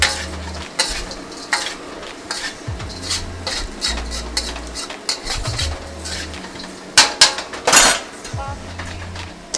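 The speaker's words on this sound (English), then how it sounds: "you can hear my wok, and it is not sizzling quite as heavily as it was before" A metal spatula scrapes and clanks against a wok as bacon fried rice is tossed in bacon fat, with a light sizzle underneath and a few sharper clangs near the end.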